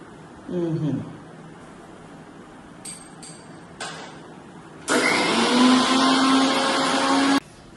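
A kitchen mixer grinder whirs loudly and steadily for a few seconds while blending coriander and mint chutney, following brief bursts of talk and a couple of short clicks.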